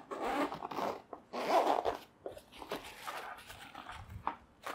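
Zipper being opened on a carry bag for an Infinite Air 18 portable wind turbine by Texenergy, heard as several close, scratchy pulls in quick bursts, with no talk.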